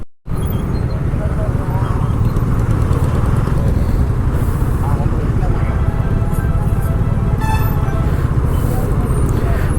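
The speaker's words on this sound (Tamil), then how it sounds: "ஸோ இப்போ பாருங்கள், பயங்கரமான ஒரு டிராஃபிக்கு." Heavy highway traffic passing around a motorcyclist on a KTM 390 Adventure ride between Hyderabad and Nagpur, India, a loud continuous engine and road roar with wind buffeting that runs steadily throughout, with someone talking over it.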